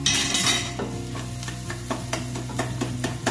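Fennel powder and coarse rock salt being sautéed in a pan, with a steady low sizzle under repeated scraping and stirring strokes of a utensil against the metal, close and moderately loud.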